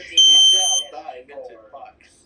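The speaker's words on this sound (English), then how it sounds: "This will be my first heat alarm." A FireX ADH heat alarm under test gives a loud, piercing electronic tone that sounds close by and holds steady for about two-thirds of a second before cutting off. Speech follows right after it.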